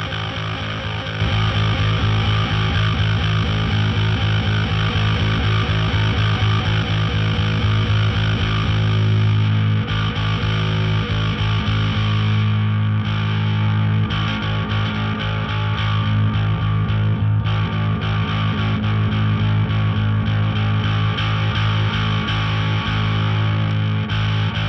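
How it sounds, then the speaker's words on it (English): A distorted bass guitar through a GCI Bad Larry distortion pedal plays a steady, heavily overdriven riff, thick and gritty, continuous and loud throughout with no voices. "you'll hear the difference more with more distortion"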